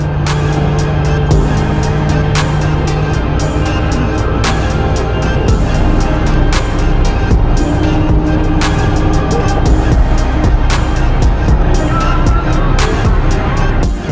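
A 1964 Ford Galaxie cruising on a highway, a steady loud rumble of engine and road noise with wind, clicking ticks scattered throughout and faint voices in the cabin.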